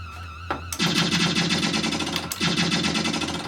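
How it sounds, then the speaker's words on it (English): Spinner shot fire in the Firepower Duel video game comes as a sudden burst of rapid, dense electronic gunfire that plays continuously and loudly, with a brief break midway. "a great way to collect more is the spinner shot"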